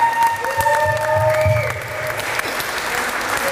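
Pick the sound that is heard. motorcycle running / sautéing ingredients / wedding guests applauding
wedding guests applauding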